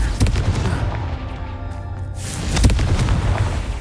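A Confringo spell blast in the video game Hogwarts Legacy, a loud booming impact with rumbling low end that fades, then a second heavy burst, dense and close.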